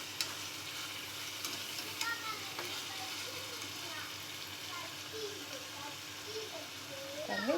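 Prawn thokku with garam masala sizzles steadily in a pan while a spoon stirs it, scraping now and then at close range over a constant frying hiss.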